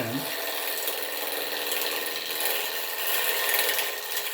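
A turning tool cuts lightly into spinning wood on a wood lathe, giving a continuous close, dense rasping hiss with a faint rattling texture that holds steady throughout, with no talking.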